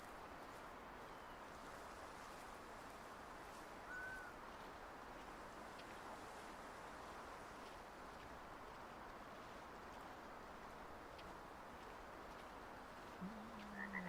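Frogs croak in a dense, steady chorus across a wooded area in the hunting game Way of the Hunter, a continuous outdoor din with no talk over it.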